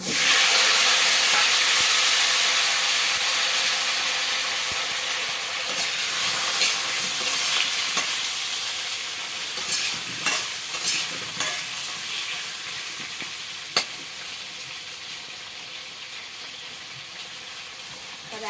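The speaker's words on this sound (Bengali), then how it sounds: "আগে থেকে কেটে রাখা আলুগুলো আমি দিয়ে দেবো তেলের মধ্যে ভেজে নেবো" Cut potatoes frying in hot oil in a kadai, a steady loud sizzling hiss that starts strongest and slowly settles, with a few occasional clicks and scrapes, close by.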